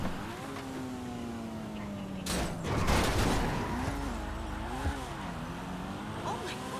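A Sugoi sports car engine drones through a random race in GTA 5, its pitch climbing and dipping with gear changes, with a loud burst of rough noise and clatter in the middle of the run.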